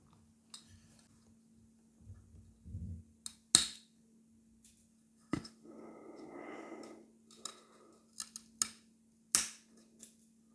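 Cord wrapping a traditional Japanese kamisori razor handle being cut, heard as a few sharp, close snips and clicks spread out over the quiet with a faint steady hum underneath and a brief rustle in between.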